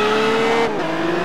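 Car engine in Test Drive drag racing, a steady droning roar that slides up in pitch as it accelerates, loud and close with no talk over it.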